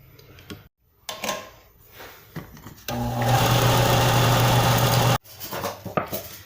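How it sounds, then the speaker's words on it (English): A bandsaw straining through basswood, a steady loud mechanical whine with a strong hum lasting a couple of seconds, framed by quieter clunks and workshop handling noises. "Apparently my bandsaw does not like basswood."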